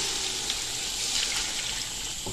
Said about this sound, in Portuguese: Aí você vai colocar água.